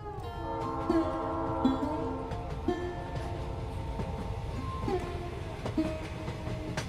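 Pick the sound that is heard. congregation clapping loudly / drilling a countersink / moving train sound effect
moving train sound effect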